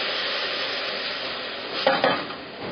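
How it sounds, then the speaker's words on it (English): Risotto rice being stirred in a pan with a utensil, steady scraping and sizzling throughout, close and fairly loud, with a couple of sharper spoon scrapes toward the end and no talking. "Stir all the time."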